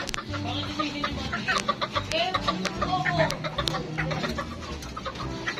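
Japanese Chabo bantam chickens, including pure white birds, cluck and chatter close by in a lively, irregular stream of short calls, with a person speaking faintly in the background.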